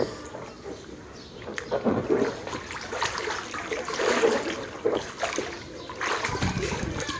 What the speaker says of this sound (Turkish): Bakın ben yüzüyorum arkadaşlar